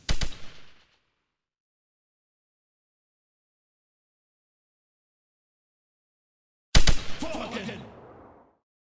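Battle fire in the video game Rise of Prussia: a sharp loud volley opens and fades within a second, then after long silence another heavy crack of guns or artillery rolls out and decays over nearly two seconds.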